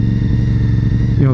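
Loud modified car engine idling with a deep, steady rumble, then a sharp rev rising in pitch near the end, close by.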